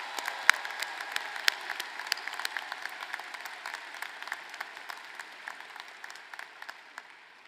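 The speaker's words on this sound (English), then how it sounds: "Please join me in showing appreciation with a round of applause for their efforts" Applause from a spring commencement audience honoring workers and volunteers, a moderate steady patter with distinct individual claps standing out, heard from some distance without talk.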